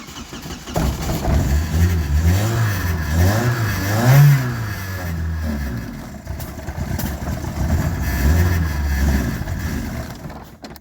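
A carburetted Volkswagen Golf Mk1 engine runs on choke at close range with a loud, rough idle. Its pitch rises and falls in uneven surges and revs, and no one speaks.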